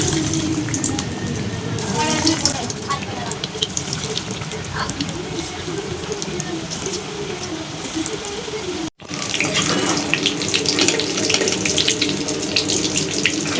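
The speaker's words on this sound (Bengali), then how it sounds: "তেল গরম হয়ে গেছে, এখন ছেড়ে দিয়ে ভেজে নিব এক একটা।" Egg-enriched dough balls drop into hot oil and fry with a loud, steady, hissing sizzle that fills the whole stretch, broken only by a brief dip partway through.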